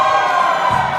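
A concert crowd at a fan event in Lisbon roars and cheers together in a brief, loud, dense swell of voices and whoops.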